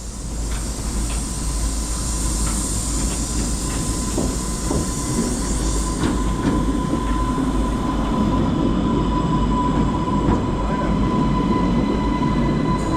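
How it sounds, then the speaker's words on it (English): An ex-London Underground District Line train rumbles steadily alongside a platform, wheels clicking and faint squeals over a continuous low roar, with a high whine running throughout. "These trains are ex-District Line Underground trains."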